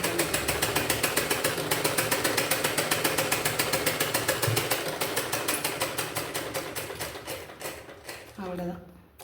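A sewing machine stitches a falls strip onto a saree in a fast, even run of mechanical clicks for most of the stretch, slowing and stopping near the end, followed by a brief voice.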